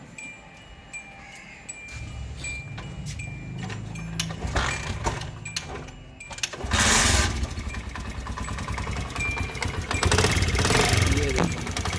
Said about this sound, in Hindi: ये आपको इंजन में से एक अजीबोगरीब सी आवाज़ आ रही होगी।